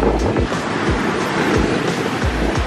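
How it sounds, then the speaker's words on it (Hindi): Strong wind buffeting the microphone over steady sea surf at a beach in Bohol in the Philippines, a loud continuous roar with no voices. "हवा बहुत तेज है, साथ में शोर आ रहा है सी साइड से"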